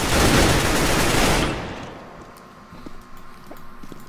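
P90 submachine gun fired in Counter-Strike: Global Offensive, a loud, dense burst of very rapid automatic fire lasting about a second and a half, then fading into scattered faint clicks and distant game noise.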